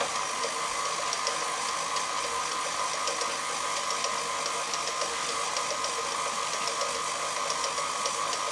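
Stand mixer beating dumpling filling, a steady, loud whirring motor drone with a rhythmic mechanical rattle running unbroken throughout, no voices.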